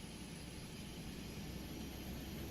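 Jet engines of a PMDG 737 airliner in Microsoft Flight Simulator 2020 give a steady, even cockpit roar with a low rumble and a constant high whine, continuous and unchanging throughout.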